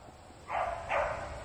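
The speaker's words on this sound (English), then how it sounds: "You're going to start barking now?" Two short barks from a dog, a little distant, with a quiet background between them.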